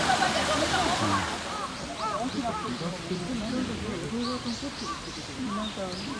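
Steady rushing roar of the Yoro waterfall fills the scene, with overlapping voices and chatter from visitors nearby running over the continuous water noise throughout.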